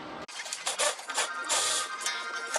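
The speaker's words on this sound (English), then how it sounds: "that's one positive of having this little little battery powered ratchet" A small battery-powered ratchet works under a Datsun 240Z near the heat shield and steering, giving close, loud bursts of buzzing mechanical whir that stop and restart in quick succession.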